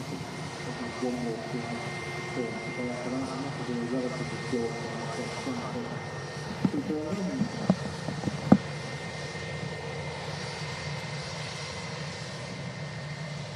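A Lufthansa airliner in the old colour scheme at Manchester Airport gives a steady, moderately distant engine hum under ongoing commentary voices, with a few sharper knocks near the middle.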